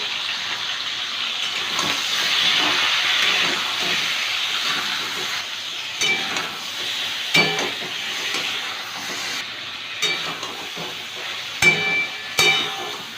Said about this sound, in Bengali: ঝিঙ্গাটা ভেজে নেব একটু নুন দিচ্ছি একটু হলুদ